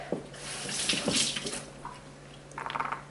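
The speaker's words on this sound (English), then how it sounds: "I'm going to rinse them off a little bit." Tap water runs steadily over small garlic cloves being rinsed in a kitchen sink, a close continuous splashing stream with brief shifts as the cloves are moved, swelling again near the end.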